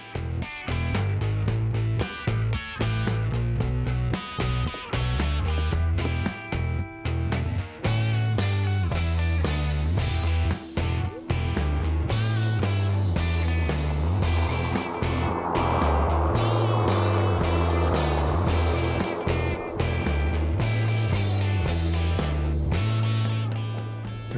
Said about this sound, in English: This mower is so quiet that I have to actually turn up the volume so you can hear it. It actually sounds a little bit like a little beehive.